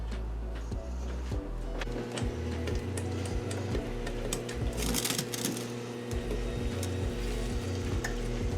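Meatballs browning in a frying pan make a soft, continuous sizzle. Clicks and knocks of the pan being shaken come and go over it, and a brief louder spatter rises near the middle.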